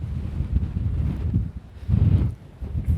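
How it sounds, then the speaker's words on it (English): Gusty wind sweeps over a ship's deck near Antarctica, rumbling hard against the microphone in uneven surges with brief lulls between them. "Have a listen to how windy it is."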